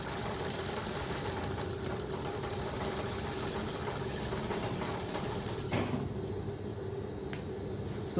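A sewing machine stitches gathers along a skirt, running in a steady rapid mechanical whir that slows near the end, with a click or two and no voices.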